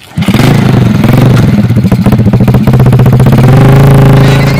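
A motorcycle engine revs loud and close for several seconds, with a rising, throbbing drone and a rapid pulsing rhythm that holds at a high pitch toward the end.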